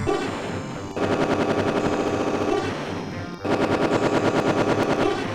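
Rapid retro shooting from a ship in the DOS space shooter Galactix, a dense rattling stream of shots that runs loud and continuous, cuts off briefly, then resumes in the same rhythm.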